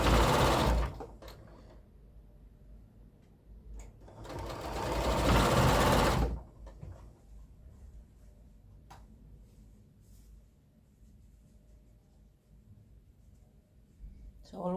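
Sewing machine chain stitching checkered quilt border pieces, with two loud sustained runs of whirring separated by quieter stretches, and a person talking during the gaps.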